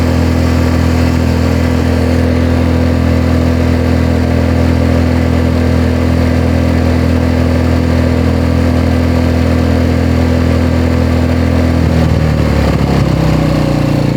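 An EcoFlow dual-fuel generator runs at low revs in eco mode, a loud, close and steady engine drone with a deep hum that shifts slightly near the end, with no talking over it.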